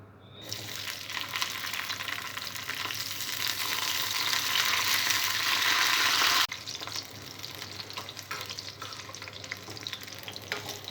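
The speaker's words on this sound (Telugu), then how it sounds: "ఆయిల్ వేడిన తర్వాత పచ్చిమిరపకాయలని రోస్ట్ చేసుకోవాలి" Green chillies roast in hot oil in a pan that was just used to roast sesame seeds, a dense, loud crackling sizzle that builds for about six seconds, then abruptly drops to a quieter, steady fry, with no talking.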